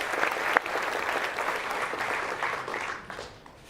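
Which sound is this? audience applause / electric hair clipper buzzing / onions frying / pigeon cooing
audience applause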